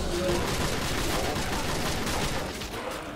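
Dense gunfire in a Call of Duty World at War zombies custom castle map, loud continuous overlapping shots and blasts forming a chaotic fusillade throughout, with no separate speech heard.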